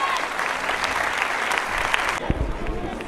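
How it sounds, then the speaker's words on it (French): Cinema audience applauding at a film premiere at CGR Nîmes, dense continuous clapping that cuts off abruptly near the end, leaving a quieter room with a few thumps and murmurs. "Applaudissements pour Jay, s'il vous plaît"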